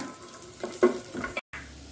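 Raisins and cashews fry in a pan with a soft, low sizzle and a few spoon clinks and scrapes, close and quiet. The sound cuts out briefly near the end.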